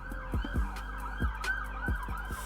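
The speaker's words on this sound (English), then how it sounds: "Sirens." Emergency vehicle sirens wail continuously on a downtown street, loud and steady, with a deep rumbling traffic drone and repeated low thumps underneath.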